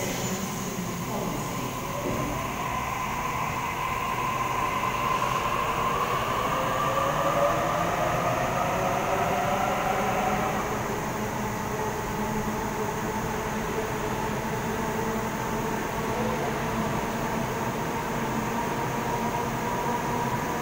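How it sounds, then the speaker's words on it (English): A commuter train departing a platform at Wynyard station rumbles steadily with a broad rushing roar and rising wheel tones as it pulls away, continuous and fairly loud throughout. "Richmond service now departing."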